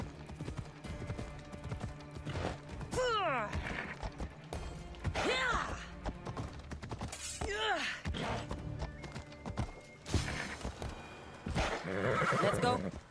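A horse in Assassin's Creed Odyssey whinnies repeatedly with rising and falling neighs over clip-clopping hooves, while someone talks throughout.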